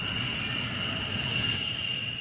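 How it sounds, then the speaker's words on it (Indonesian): Hercules military transport aircraft of the Indonesian Air Force at an air base in Aceh, heard as a steady engine drone with a sustained high turbine whine held at a constant level throughout. "inilah salah satu pesawat Hercules TNI Angkatan Udara Indonesia Air Force"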